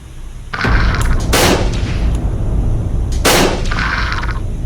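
Two loud, sharp gunshots ring out about two seconds apart over a steady rumbling background, fired in a Filipino horror video game while hunting ancient sigbin creatures.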